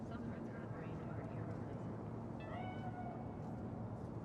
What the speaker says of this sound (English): Chill, just a cat.